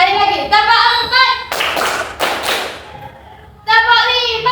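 An elementary school class of children claps hands in a counted clap pattern, a few sharp bursts of group clapping between stretches of children's chanting voices in a classroom.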